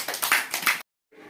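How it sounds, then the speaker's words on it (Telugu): A small group of children clap their hands together during a classroom activity, a quick burst of claps that cuts off abruptly into silence before faint noise returns. "క్లాప్స్ కొట్టండి."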